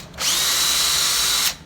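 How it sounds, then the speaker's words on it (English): Power drill pre-drilling into wood for a front door strike plate: one loud, steady high whine lasting just over a second, starting and stopping abruptly. "we're gonna pre-drill this guy"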